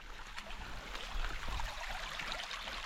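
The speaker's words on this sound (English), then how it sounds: "There seems to be a river." A stream of water running along a flooded hiking path in the Lake District, a steady, fairly faint rushing and trickling wash heard close by with no voices.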